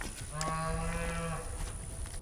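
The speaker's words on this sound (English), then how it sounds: "Them cows are going to try to eat my hay." A single cow moos once on a ranch, a close, steady low call lasting about a second over faint outdoor background noise.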